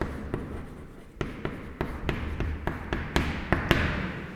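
Chalk or a marker taps and scratches on a board while writing a wave equation, producing a series of sharp taps at irregular intervals over a soft room background.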